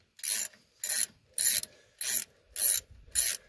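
A ratchet with a 9/16 socket tightening a hub on a Ford F-150 4x4, six crisp, evenly spaced bursts of clicking, close and fairly loud, with short quiet gaps between strokes.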